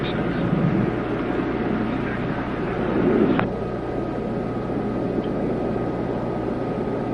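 Space Shuttle Atlantis rolls down the runway after main gear touchdown, a steady low rumble and broad roar with a brief swell midway and a sharp click, under a voice.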